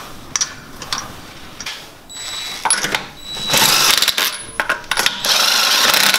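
Pneumatic impact wrench zipping wheel lug nuts on, in several loud bursts of whirring and rattling hammering with short pauses between them, close by in a garage.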